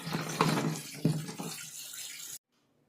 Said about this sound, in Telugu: ఇవి తొడాలు తీసి బాగా వాటర్లో క్లీన్ చేసుకోవాలి